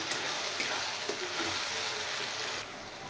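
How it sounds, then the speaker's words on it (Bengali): A paste of mustard, ginger, onion and green chilli fries in a pan with a steady, close sizzle that keeps going the whole time, touched by faint stirring noises. "এবার এই মশলাটা আমি আর একটু কষিয়ে নেব।"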